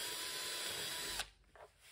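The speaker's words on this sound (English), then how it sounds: "I therefore pre-drilled the holes with a 5 mm drill bit." Power drill with a 5 mm bit pre-drilling holes, a steady close whine that cuts off abruptly, followed by a few faint handling sounds.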